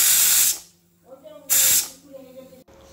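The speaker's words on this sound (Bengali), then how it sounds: "ওদিকে আলুর দমটা বসানো আছে, সিটি পড়লো বলে" A pressure cooker cooking aloo dum gives two loud hissing bursts of its whistle releasing steam, each about half a second long and separated by a quieter gap of faint clatter and low tones.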